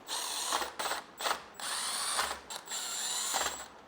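A ratchet spins bolts into a BMW Getrag 420G transmission case during a reseal, rapid clicking bursts repeated several times with short pauses between, close and clear with no speech.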